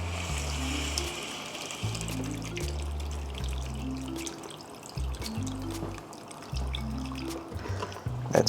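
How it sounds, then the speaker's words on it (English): Lamb broth poured into a cooking pot on the stove for a smoky one-pot lamb shank rice, a soft splashing trickle heard under a low, repeating tonal background. "So here it is, the broth goes in here."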